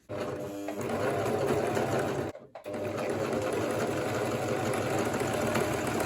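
A sewing machine runs continuously while stitching kaftan fabric along a bias line, a steady close-up mechanical whir with one brief pause near the middle.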